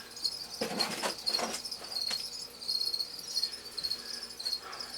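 Crickets in a breeding colony chirp in rapid bursts, a dense, fairly close high-pitched trilling that pulses irregularly without any talking.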